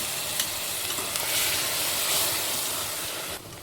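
Tomato puree hits hot oil in a pan for rajma curry, giving a loud, dense, steady hiss and sizzle that barely varies before dropping off sharply at the end.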